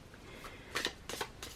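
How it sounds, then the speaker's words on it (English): A deck of tarot cards is shuffled by hand in a few quick riffling bursts, close and crisp against quiet room tone, with no voices. "let me shuffle this a little bit better"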